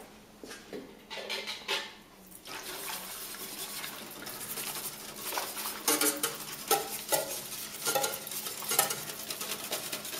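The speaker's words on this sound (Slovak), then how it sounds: "Ľahko premiešame." A spoon stirs pudding in a multifunction pan, giving soft repeated scraping and clinking strokes with faint bubbling underneath, fairly quiet and close, with no one talking.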